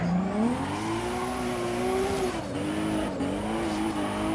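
A drift car in the racing simulator Assetto Corsa EVO produces a continuous tire squeal over a steady engine drone. The pitch wavers and rises as the car slides, and the sound stays loud throughout.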